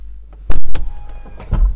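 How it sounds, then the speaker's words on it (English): A 2022 Mercedes G63 AMG (Hofele HG800) door opens with a sharp mechanical clunk, then an electric motor whirs briefly as a power side step extends, ending in a second thump. "When you open the door, you can see that the side step folds out."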